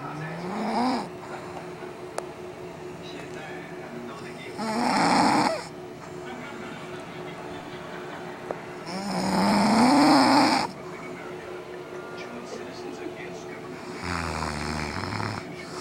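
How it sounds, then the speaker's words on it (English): A woman sleeps and snores in long, loud rasping breaths. The snores come at steady intervals a few seconds apart, and a quieter breath follows each one, with no talk over them. "This is my mom sleeping. She doesn't think she snores."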